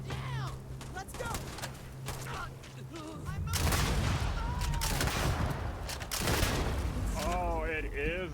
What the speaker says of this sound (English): oh, it is a grenade launcher